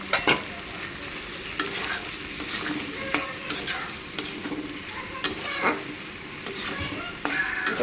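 Fried potatoes are stirred into a sizzling pan, with a steady close frying hiss broken by scattered scraping and clattering strokes of the spoon.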